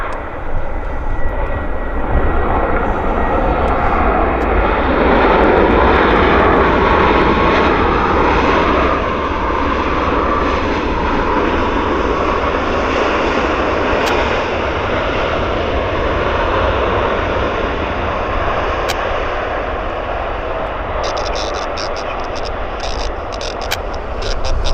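A WestJet airliner at Vancouver airport at sunset, its loud engine roar sustained and close as it passes, slowly easing off toward the end, with wind noise and faint voices beneath.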